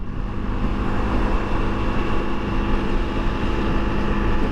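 Steady, loud drone of a Honda CRF 300 L motorcycle engine cruising at highway speed around 6,000–7,000 RPM, a constant engine hum blended with rushing wind noise, with no talk.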